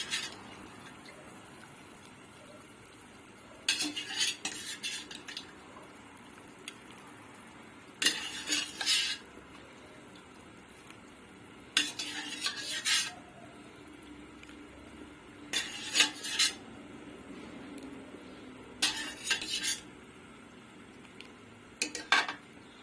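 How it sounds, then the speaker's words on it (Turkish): Boiled chickpeas added to a pot of topalak soup, heard as several separate bursts of spoon scraping and clinking against the pot, spaced a few seconds apart over a quiet background, close by, no talking. "Şimdi haşlamış olduğum nohutlarımı ilave edeceğim."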